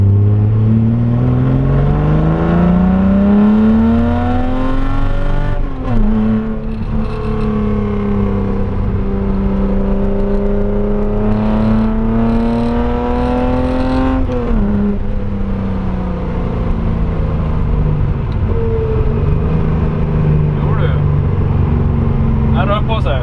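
A Datsun 240Z with a slightly tuned engine revs up through rising pulls, drops back, then climbs again, loud and close from inside the car, with people talking over the steady engine drone.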